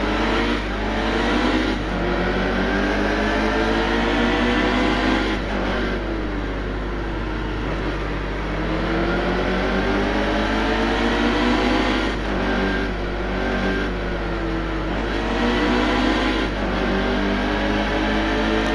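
Race car engine in the NASCAR Heat 2 video game, droning steadily throughout with repeated rising and falling pitch sweeps as it revs and shifts, loud and continuous with no talking.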